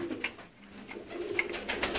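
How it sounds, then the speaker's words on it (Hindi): Old black-faced pigeons cooing at close range, low soft coos repeating through the stretch amid faint outdoor bird chatter and a few brief higher chirps. "काले मुंह वाले जो कबूतर हैं, पुराने कबूतर हैं ये बहुत"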